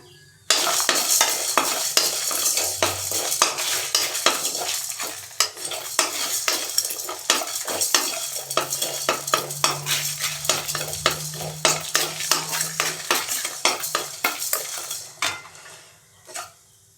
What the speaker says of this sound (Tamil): மசாலா நல்லா வறுபட்டுருச்சு.